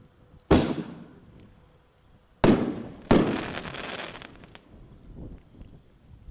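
Sky Crusher firework shells burst at a dealer show, three sharp booming reports with crackling tails, the last two close together, followed by fainter distant pops.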